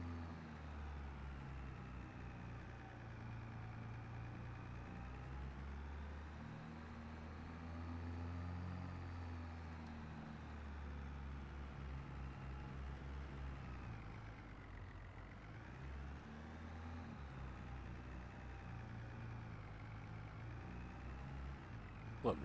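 A tractor engine runs steadily at close range, a low, heavy rumble holding constant for the whole stretch with slight swells in load, working among storm-felled trees, with no talk.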